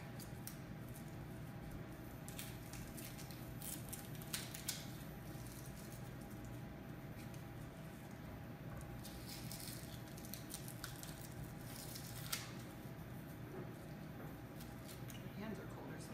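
Garlic cloves are peeled by hand while pickling onions and radishes, giving a quiet, continuous papery crackle and rustle of dry skins with scattered small crisp snaps over low room hum.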